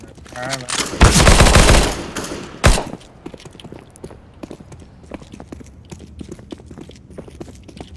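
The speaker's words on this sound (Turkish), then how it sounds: "Geliyor geliyor arkamızda sanki ayak sesi aldım" Rapid footsteps in the game CS:GO, preceded by a loud burst of gunfire near the start; the steps continue as a run of soft, quick taps at moderate level.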